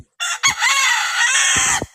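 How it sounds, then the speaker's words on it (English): A rooster crows once, a loud, close, drawn-out cock-a-doodle-doo lasting over a second, with brief clucking sounds at its start and end. "It looks like your chicken wants to talk to me."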